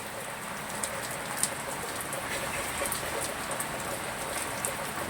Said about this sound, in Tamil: மழை பெய்யுதுங்க.